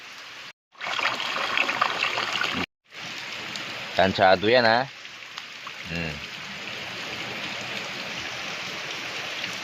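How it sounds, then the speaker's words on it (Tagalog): Steady heavy rain hisses throughout in Taiwan, briefly cut by two short gaps, while a person speaks a few words partway through. "Napakalakas ng ulan."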